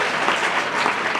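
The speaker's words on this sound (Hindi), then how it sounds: "आपकी ताली ही हमारे उत्साह को बढ़ाएगी, इसलिए तालियों की गड़गड़ाहट रुकनी नहीं चाहिए।" An audience at a school science event claps in a dense, continuous burst of applause, loud and close, with no voices over it.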